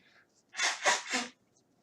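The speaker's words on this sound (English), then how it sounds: "I'm gonna sneeze, excuse me." One loud, close sneeze in a quick burst with a brief intake before it, then quiet.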